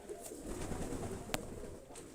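Pigeons coo and flutter in a low, continuous murmur, with one sharp click partway through; no talking.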